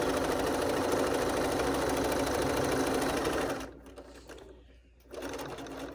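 A sewing machine stitches a quarter-inch seam along quilt binding in a loud, steady run close by, then slows and stops before a short burst of stitching resumes.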